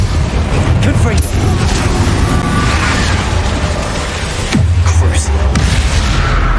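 Explosive spell blasts from Bombarda and Confringo in the wizarding video game Hogwarts Legacy, loud booming bursts over a dense rumbling game soundtrack, with a couple of sharper impacts standing out near the end.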